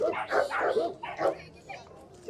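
Alabai puppies at an outdoor dog market give short, yappy barks and whimpers in quick bursts, close by, with a voice talking over and between them.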